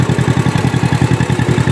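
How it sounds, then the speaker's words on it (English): A lawn tractor engine runs up close with a steady, rhythmic chugging pulse, mowing a yard, with no talk over it. "tractor is so quiet"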